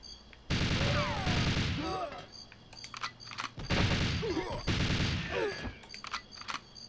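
Bursts of heavy gunfire from a powerful weapon in GoldenEye 007, loud rapid volleys in two or three clusters with game sound effects and a voice talking between them.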